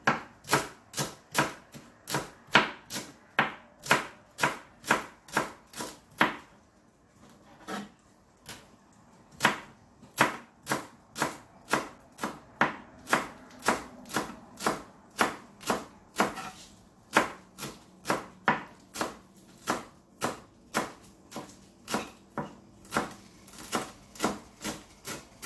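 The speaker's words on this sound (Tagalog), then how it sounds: "I-slice po na, i-chop po natin yung parsley para sa garnish niya mamaya." A knife chops parsley on a cutting board in steady, rapid knocks that continue for a long run, with a brief pause partway through. No voices are heard.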